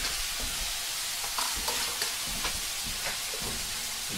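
Garlic sizzling in a Thai stir fry, a constant bright frying hiss with scattered spatula scrapes and taps against the pan, heard close and alone.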